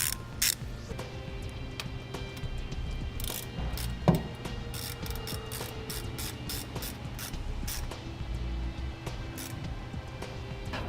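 Nut being reinstalled on a battery terminal bolt while fitting a Roadmaster battery charge line kit to a 2015 Tiffin Allegro motorhome: quiet ratcheting clicks and metallic turning, close up, with one sharper clank partway through.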